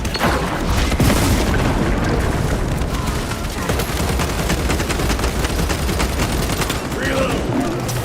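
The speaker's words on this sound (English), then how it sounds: "Melter bomb deployed." A melter bomb detonates in Warhammer 40000: Space Marine II, with a loud boom buried in relentless rapid gunfire and battle din that never lets up.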